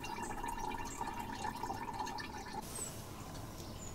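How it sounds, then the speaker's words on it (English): Coolant draining from a Kubota B2100 compact tractor, a gurgling, trickling stream of liquid that splashes steadily for the first part and then thins to quieter dripping, faint and close, with no talk. "last job is to remove the coolant and then the hoses which run up to the radiator in"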